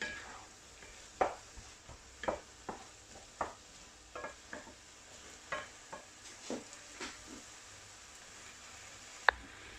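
Shrimp, squid, garlic and coriander stirred in a frying pan, a soft steady sizzle broken by repeated scraping strokes of a utensil, with a sharper clack near the end.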